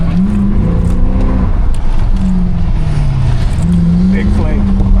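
A car drifting on a track: a loud engine hum rising and falling as the revs change, with wind and road roar, under someone talking.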